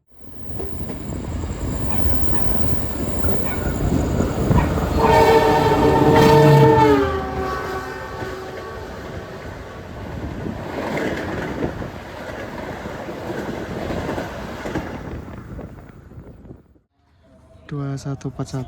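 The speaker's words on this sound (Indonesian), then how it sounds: "ternyata yang melintas adalah kereta api Serayu Malam dari stasiun Pasar Senen" The Serayu Malam passenger train from Pasar Senen station rumbles past with clattering wheels, its horn sounding loudly midway, then the noise fades and a voice speaks briefly at the end.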